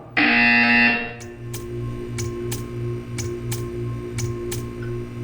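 A loud electronic buzzer in Portal 2 blares for about a second, then a steady ticking clicks at regular intervals over a low hum.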